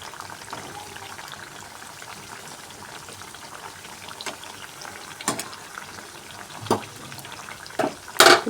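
Homemade atta biscuits fry in hot oil with a steady soft sizzle and bubbling throughout. A few sharper clinks and scrapes come near the end as the biscuits are turned.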